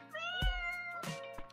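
Cat meowing in the Dave the Diver game, a drawn-out tonal meow followed by a second shorter mew, up close and clear over quiet game ambience with soft thumps.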